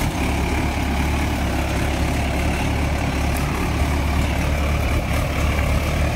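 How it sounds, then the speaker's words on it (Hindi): A large tractor removes soil in a trench-planted sugarcane field, its heavy diesel engine running as a steady, loud, low rumble throughout, close by and uninterrupted, with no talking. "लेकिन थोड़ा जल्दी काम हो जाए इसलिए बड़े ट्रैक्टर से मिट्टी उतार रहे हैं।"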